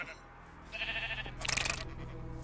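A sheep in Minecraft Bedrock Edition, with a parasite add-on loaded, gives two short nasal bleats close up, the second louder and brighter. Someone talks over them.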